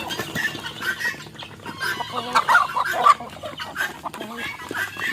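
A flock of chickens, including laying hens, cluck and chatter continuously at close range while being fed, with a busy flock murmur throughout.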